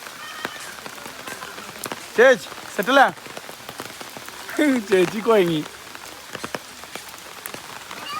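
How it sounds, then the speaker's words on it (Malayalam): Steady rain falls on surfaces at a Matheran hill station in Maharashtra, a constant patter running through the whole stretch while people talk in short bursts over it. "മഴ പെയ്തു, മഴ കൊണ്ട മഴയെല്ലാം നിലത്ത് വീണ് കിടക്കുന്നു."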